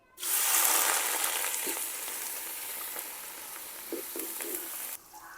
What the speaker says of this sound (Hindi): कढ़ाई में ऑयल डाल दी और अभी हमने इसमें डाल देते हैं प्याज